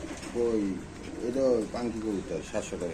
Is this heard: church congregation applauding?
no